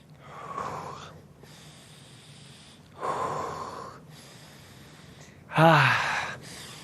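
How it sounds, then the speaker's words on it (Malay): A person does a breathing exercise, inhaling through the nose and exhaling through the mouth: three separate airy breaths, the last a sharper, louder snort-like exhale, close to the mic. "Tarik nafas guna hidung, hembus guna mulut."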